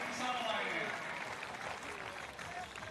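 A stadium crowd at a women's European U23 pole vault final cheers and applauds in a dense, sustained roar, with a voice speaking over it.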